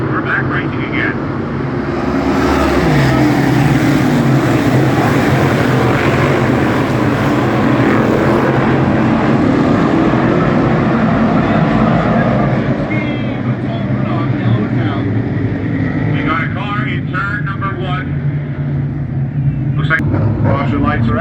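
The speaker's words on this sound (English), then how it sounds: "green flag, ready to come out. We're back racing again" 358 modified race cars restart on the green flag, a loud, sustained roar of many engines that builds and holds for the whole stretch, with an announcer talking over it.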